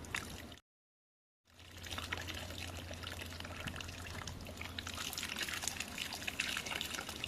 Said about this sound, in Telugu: ఇంకో 100 గ్రాముల చింతపండులో 2 గ్లాసుల వాటర్ వేసుకుని రసం తీసుకుని